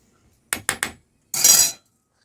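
A pot of tamarind curry being lifted off a stove: three quick metallic clinks in a row, a short pause, then a longer grating scrape of metal on metal, close and clear with no voices.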